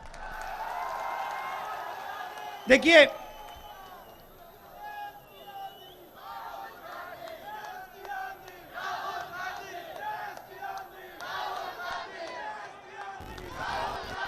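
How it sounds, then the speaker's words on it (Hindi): A political rally crowd on the Bharat Jodo Yatra roars with cheers and shouts, with a sharp burst of noise near the start and swelling waves of voices, while a speaker talks over it. "अब भैया, अब ताली बजाने का टाइम है।"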